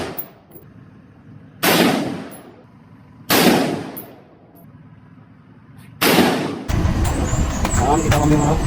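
Loud gunshots at an outdoor firing range near a beach: three sharp, separate blasts a couple of seconds apart, then a sustained burst of heavy noise, with faint voices between shots.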